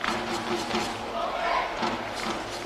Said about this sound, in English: Now you can hear the Wollongong supporters cheering their side on.